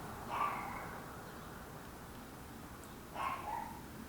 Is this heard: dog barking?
yes